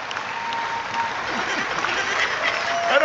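An audience claps in sustained applause after a political speech, a dense even patter of many hands that grows slightly louder toward the end, with voices murmuring underneath.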